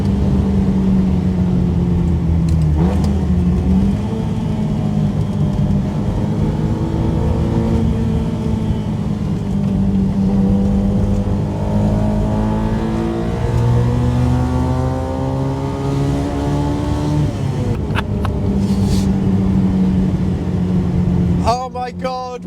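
A 1968 Honda S800 sports car engine revs hard under acceleration, its loud, buzzy note climbing and dipping through the gears continuously and close up.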